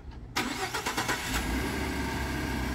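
A pickup truck engine fires up by remote start, cranking briefly before catching into a steady idle that settles and holds, fairly close with no one talking.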